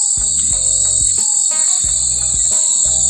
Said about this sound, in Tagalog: Mga kuliglig na guys.